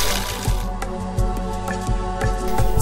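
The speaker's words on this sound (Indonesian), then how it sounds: "suara gemercik air yang menenangkan hati" Water trickles and drips near the Tunan waterfall, with small splashes and cracks popping out in an irregular rhythm, close and fairly steady.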